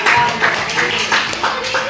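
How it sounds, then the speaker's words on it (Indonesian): Children clap their hands in short rhythmic bursts during a school coaching session, several brisk claps close by with voices mixed underneath. "tepuk tangan"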